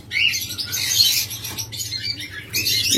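A pair of yellow Fischer's lovebirds chirps steadily and close by, with bright overlapping twitters and short squawks running almost continuously, over a low background hum.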